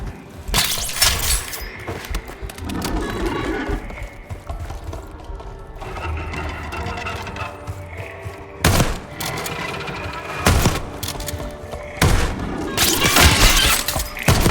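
Gunfire in Call of Duty: Black Ops 6, with sharp bursts of shots cracking out over a steady bed of battle noise and mechanical clatter, and several loud, distinct volleys near the end.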